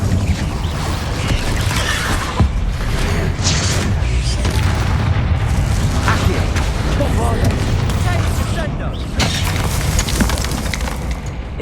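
An Incendio fire spell is cast in Hogwarts Legacy, a roaring burst of flame heard amid a loud, dense din of battle noise with scattered booms and cracks.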